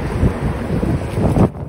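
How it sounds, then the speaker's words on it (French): Strong wind roars steadily into the microphone outdoors during a ride on a NAVEE S40 electric scooter, a loud continuous rumble that cuts off abruptly at the end. "il y a vraiment trop de vent"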